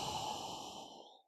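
A single long exhale during yoga breathing, close and breathy, that starts full and gradually fades out to silence, with no talking over it.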